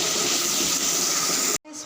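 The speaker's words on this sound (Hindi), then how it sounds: "और उसके साथ ही मैं इसमें पानी दूँगी थोड़ा सा।" Water is poured into a hot pan of green chilies, making a loud, continuous steaming hiss and sizzle that cuts off abruptly near the end, leaving a faint trickle.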